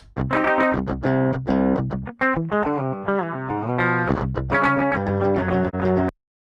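Heavily distorted electric guitar plays chugging chords and short riffs, loud and saturated, with brief gaps before ringing out and stopping abruptly.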